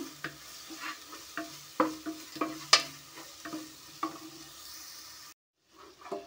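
A coconut masala mix fries in a pan for Kerala-style coconut rice, soft sizzling broken by repeated scraping stirs of a spoon against the pan, then a short silence before stirring resumes.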